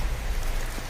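Heavy rain during a storm, a dense, steady hiss with low rumble, close and loud for under a second, no voices.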